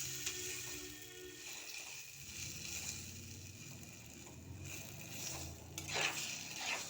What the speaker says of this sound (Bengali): নাড়াচাড়া করে নিই।